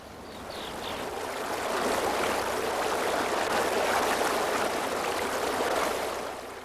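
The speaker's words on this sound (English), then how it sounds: "Running water is given no constant form by its internal structure. When it flows, it follows the contour of the stream's bottom and banks." Running water flows in a stream, a steady broadband rush that swells slightly and holds constant throughout, with no voices.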